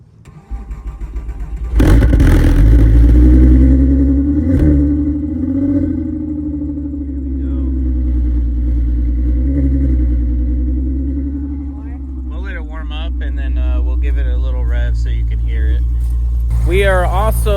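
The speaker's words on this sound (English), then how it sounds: "What I think is the best thing about a VR6 is its sound. So we're gonna start this up." A cold start of the VR6 engine in a VW MK4 Jetta: a short cranking burst, then a loud catch and a steady, throaty idle that holds close and continuous, with someone talking over it near the end.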